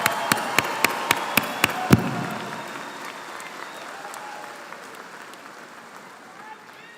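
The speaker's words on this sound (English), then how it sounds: "One more round of applause for the 2023 graduates of the Executive MBA program." Applause at a business school graduate commencement for 2023 Executive MBA graduates. A run of sharp, evenly spaced claps gives way to broad crowd applause that slowly fades.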